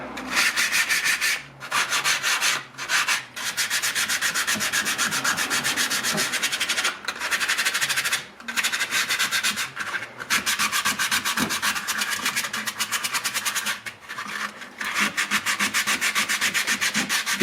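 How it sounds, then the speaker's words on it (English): Rapid rhythmic hand sanding along the edges of a wooden board game parts tray, close and steady scratchy strokes with brief pauses between bursts, no talking. "If you're doing a lot of sanding,"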